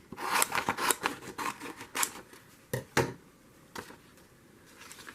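Scissors cutting paper for a junk journal, a quick run of close, crisp snipping strokes followed by a few slower separate cuts, quiet between, no talk.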